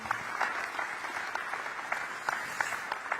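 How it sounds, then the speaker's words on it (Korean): Audience applause at a dinner gathering of Korean expatriates in Singapore with the Korean president: steady, dense clapping from a crowd, continuous and moderately distant, with no talk over it. "다시 한번 큰 박수 부탁드리겠습니다"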